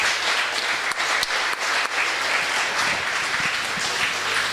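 Audience applause at a startup pitch competition, a steady wash of many hands clapping that holds at an even, fairly loud level throughout with no speech over it.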